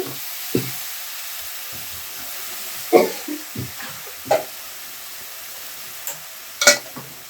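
Brinjal curry is stirred in a pan, with a soft steady sizzle underneath and several sharp scraping clacks of the spoon against the pan spread irregularly across the stretch.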